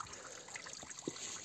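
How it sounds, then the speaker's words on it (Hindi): Stream water runs downhill at a camping spot, a soft continuous trickle and babble with a brief splashy blip, faint and steady with no voices. "देखे उधर से उतर रहा है पानी नीचे की ओर।"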